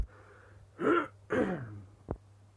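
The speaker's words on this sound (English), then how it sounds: "I'm sorry, but I'm going to cough." A person coughs twice in quick succession, then gives one short, sharp cough, all close to the microphone with no talking.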